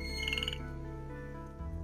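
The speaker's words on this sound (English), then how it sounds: "Hey, froggy, please wait. I won't put you on a plate. I just want to hear your call." Frog croaking in a Milkmaid of the Milky Way video game, a short burst of bright repeated croaks followed by a sustained tonal call, faint and alone without speech.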